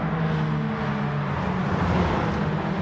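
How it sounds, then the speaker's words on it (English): Racing cars drive nearby, their engines a steady, rushing whir and drone that holds loud throughout, with no clear single pass-by. "There's other cars off, I can hear them"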